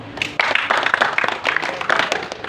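Church congregation clapping during an Easter sermon, loud and close, with rhythmic bursts of hand claps in uneven pulses and no speech over it.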